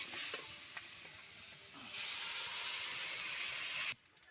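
Water poured into frying yam, potato and spinach curry sets off a loud, steady hiss and sizzle close by that steps up midway, then cuts off abruptly near the end.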